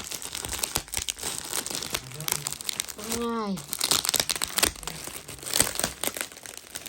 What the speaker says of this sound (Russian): мне все время жалко вскрывать эти пакеты